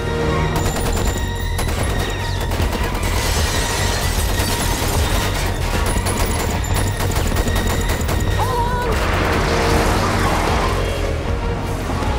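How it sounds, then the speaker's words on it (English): Rapid gunfire during a freeway car chase in The Matrix Reloaded, with dense bursts of shots, crashes and impacts over a loud, continuous action mix. "Incoming fire."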